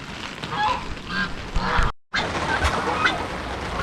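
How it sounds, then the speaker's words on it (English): Turkeys call repeatedly nearby, with honking, gobbling bursts overlapping in an ongoing noisy chorus. "the turkeys are going to be a little loud"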